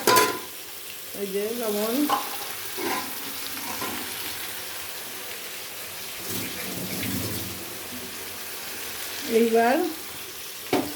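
Chicken frying in a pan with salt and turmeric added, a soft continuous sizzle with stirring scrapes, while someone speaks briefly near the start and again near the end.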